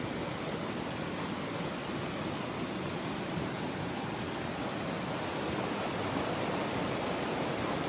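Creek water flowing at a family camping spot, a dense, even rushing wash that fills the whole stretch without pause, close and steady with no voices.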